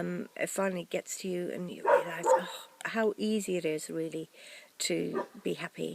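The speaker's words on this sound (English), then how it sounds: "Sorry about my dogs barking in the background," Pet dogs bark in the background of a home, faint and intermittent beneath a person talking steadily throughout.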